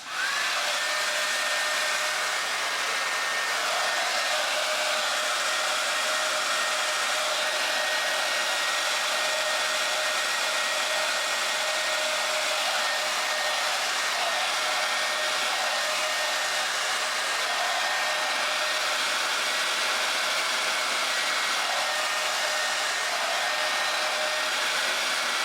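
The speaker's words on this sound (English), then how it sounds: "I'm gonna start off on the highest, hottest setting on my blow dryer." A blow dryer runs on its highest speed and hottest heat setting, a loud, steady whirring rush with a constant whine that holds unchanged from start to finish.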